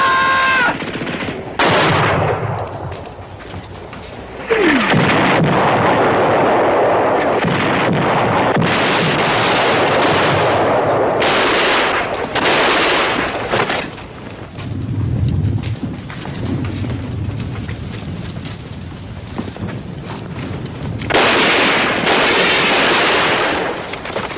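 Sustained, loud battlefield gunfire from a war drama, with rapid machine-gun bursts and heavy blasts that rise and fall in waves for about twenty seconds, with no talk over it.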